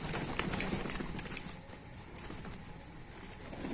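Reaper Swing ornamental pigeons cooing softly in a rainy-season loft, faint and steady beneath a wash of background noise, with no voices.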